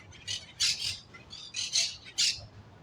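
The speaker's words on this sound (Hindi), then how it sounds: "ये यहाँ पर उनके सर पे कबूतर घूम रहे हैं" Pigeons circle overhead and land on people's heads and shoulders, giving a few bursts of close, squawky calls and fluttering in short clusters, with no talk over them.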